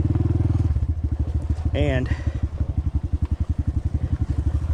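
A Honda CT125 motorcycle rolling slowly downhill with engine braking, its engine pulsing in a steady low throb with a brief squeal partway through, close and loud, while someone talks over it.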